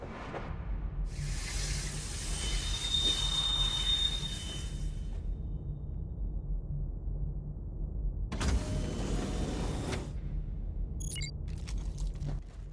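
Train braking in the Warface video game, a long rumbling roll with a broad hiss and shrill squeal building over several seconds, then a second burst of grinding noise near the end with a few sharp metallic screeches.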